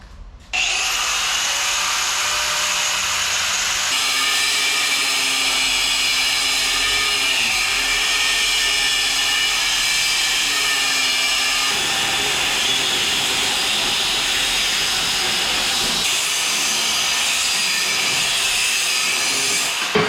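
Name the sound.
power tool cutting a clamped suspension part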